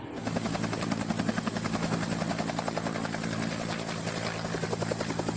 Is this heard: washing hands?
no